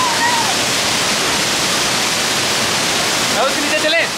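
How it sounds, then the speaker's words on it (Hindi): Fast-flowing waterfall roaring loudly and steadily from start to finish, a dense broadband wash of water close by, with a brief voice and faint whistle-like tones near the end. "यहाँ पे पानी की स्पीड इतनी है ना कि हम खड़े खड़े भीग सकते हैं।"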